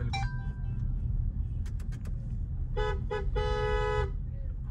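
A Maruti Grand Vitara's car horn honks twice in bursts, the second one longer, over steady road and engine noise from inside the moving car while people talk.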